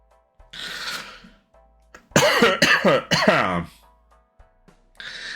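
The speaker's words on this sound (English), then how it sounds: "It's me coughing." A soft breath, then a run of three or four harsh, close coughs in quick succession, followed by another breathy exhale.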